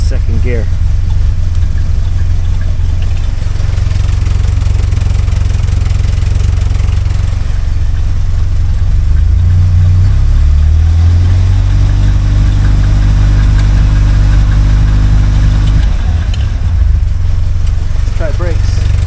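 A 1976 Alfa Romeo Spider engine runs loudly up close as the car is driven in second gear, with a low, steady rumble that shifts in pitch midway and settles back toward idle.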